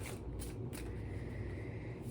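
Large, stiff oracle cards are shuffled by hand, giving a few soft riffling swishes early on over a steady low background hum.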